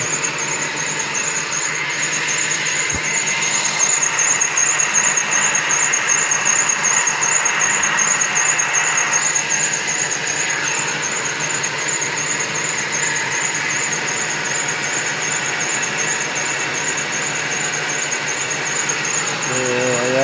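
2015 or 2011 Ford Expedition engine running after a transmission control module replacement, a steady idle with a persistent high-pitched whine or squeal over a low hum, close and continuous, with some speech in the background.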